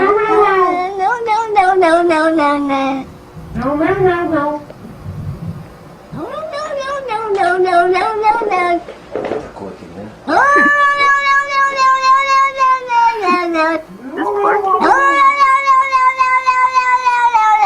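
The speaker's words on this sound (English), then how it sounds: "What is that kitty saying no for?" A cat yowls in long, drawn-out meows that rise and fall like a voice repeating "no", several loud calls in a row separated by short pauses, close to the listener.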